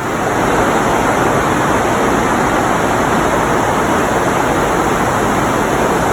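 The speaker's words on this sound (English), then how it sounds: "That is actually rain pouring down on the roof." Heavy rain pours onto a roof during travel in Southeast Asia, a loud, dense, unbroken roar with no let-up, steady and close throughout.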